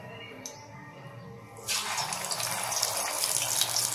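Paarai fish coated in masala lowered into hot oil, a quiet start then a sudden loud, broad sizzling hiss that holds steady and close for the remaining seconds.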